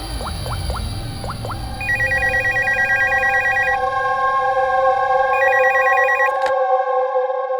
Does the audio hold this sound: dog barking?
no